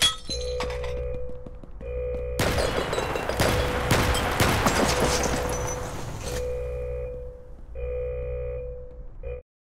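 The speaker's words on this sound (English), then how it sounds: "They are dropping air bombs on us." Heavy explosions from air bombs dropped on a prison in the video game Red Alliance, a dense roaring blast lasting several seconds over a humming game backdrop with clanking debris, loud and close.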